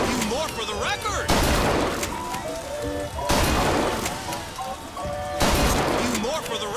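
Bursts of video game gunfire from Bioshock Infinite rattle in loud volleys with crashing impacts, arriving in three heavy waves, while voices can be heard over the shooting.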